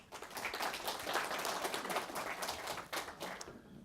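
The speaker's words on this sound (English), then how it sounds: "You save the applause until the end" Audience in a university law lecture hall clapping for the lecturer, a soft, fairly sparse patter of hand claps sustained throughout and fading away at the end.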